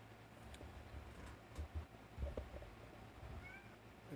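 A domestic cat meows faintly a couple of times near the end, thin cries over a low, steady indoor background hum, with no talking.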